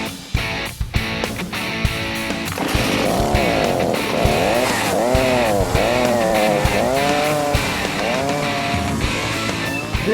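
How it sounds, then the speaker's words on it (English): A carving chainsaw runs loud and close, its engine rising and falling in repeated surges as it cuts out the center of a wooden bowl, with brief idling gaps at the start. "I bought this special chainsaw that I can actually cut the entire center out in one piece"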